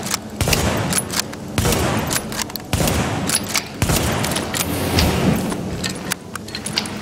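Gunfire in the video game Tom Clancy's The Division comes as loud bursts of rapid shots and sharp cracks, several volleys in a row with short gaps between them, and no speech over it.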